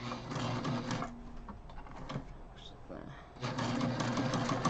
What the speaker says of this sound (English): So I'm just gonna sew it up one side and down the other.